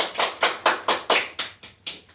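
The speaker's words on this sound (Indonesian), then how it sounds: "Bagus, beri tepuk tangan" Children clap in unison for a pupil in a classroom, about eight sharp rhythmic claps spaced evenly and close by, fading slightly toward the end with no talking.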